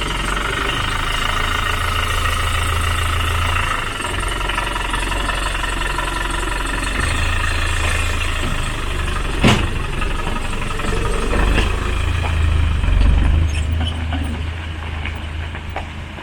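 A Land Rover 90's engine runs steadily with a deep, knocking idle, loud and close throughout, with a sharp clank partway through and slight rises in revs near the end.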